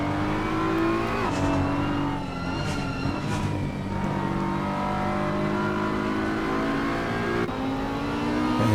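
Race cars at Zandvoort in a 2022 midfield race scramble past, engines revving and shifting through gears, several cars audible at once with rising and falling pitch, loud and steady throughout.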